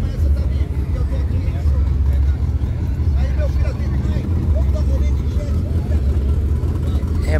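A dense, continuous rumble of many cars driving past at a car event, loud and close, with engine drone filling the whole stretch and a voice speaking briefly over it.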